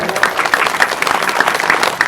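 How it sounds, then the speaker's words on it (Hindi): A crowd claps to welcome guests at an evening Shrimad Bhagwat Katha gathering in Patrapara village, a steady, dense patter of many hands filling the space without letting up. "जोरदार ताली से इनका स्वागत करें।"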